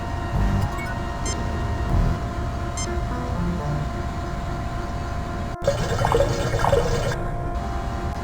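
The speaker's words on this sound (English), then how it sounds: "The blocks fit through the opening, splashing as they plunge into the liquid." Blocks splashing as they drop into liquid in the Star Trek: Judgment Rites video game, set against a steady electronic hum, with a few small splashes and a burst of bubbly watery sound near the end.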